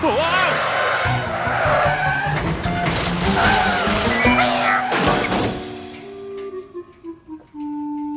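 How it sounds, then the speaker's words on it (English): A car skids with squealing tires as it runs a red light in a cartoon street scene, a loud, busy burst of screeching and engine noise mixed with voices, settling into quieter tones at the end. "the car went right through the red light"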